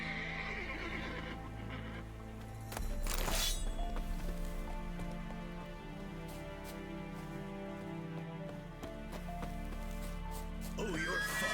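In The Witcher 3, a called horse neighs loudly and its hooves clop in, set against continuous game ambience and music.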